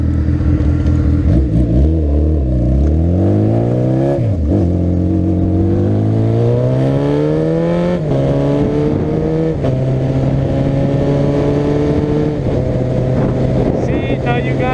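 A 1993 Yamaha motorcycle engine roars up close while riding, revs climbing and dropping repeatedly through gear shifts, loud and steady over rushing wind.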